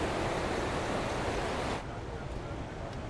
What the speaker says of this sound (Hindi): रिवर का साउंड आप सुन सकते हो,